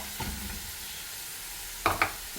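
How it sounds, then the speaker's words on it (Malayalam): Ginger-garlic paste hits a hot pan for an Irachi Pahiri meat dish, a soft continuous sizzle with two sharp crackling bursts near the end, quiet and close with no voices. "നമുക്ക് കുറച്ച് ഇഞ്ചി വെളുത്തുള്ളി അരച്ച് വെച്ചിട്ടുണ്ട്, അതിട്ട് വെക്കാം"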